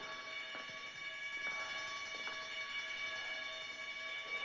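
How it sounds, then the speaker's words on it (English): An alarm rings continuously at a steady level, a bright sustained tone heard throughout with faint knocks and movement beneath it. "That alarm is going to bring quite a crowd here"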